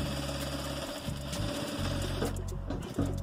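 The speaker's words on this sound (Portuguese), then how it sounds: "E agora eu vou estar fechando essa parte aqui do forro." Sewing machine stitching the lining of a patchwork crazy-quilt pencil case, a steady close mechanical whir that pauses briefly and restarts in short runs, with no talking.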